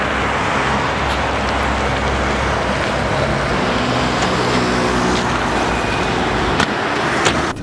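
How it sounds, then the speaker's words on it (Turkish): A car approaches along a road, a loud, steady roar of engine and tire noise that swells and holds throughout, with a few short knocks near the end. "Dur araba geliyor, dur şunu durduralım bari."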